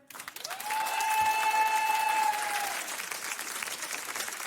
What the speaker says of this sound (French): Ouais, c'est moi qui vous applaudis,